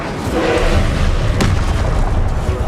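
An Incendio fire spell cast in Hogwarts Legacy gameplay: a loud, deep booming burst with rumbling low end and a sharp crackle near the middle, amid continuous combat noise.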